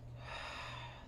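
A single deep breath is drawn in during a Pilates class with light weights, a soft, close airy inhale lasting about a second under a faint background hum.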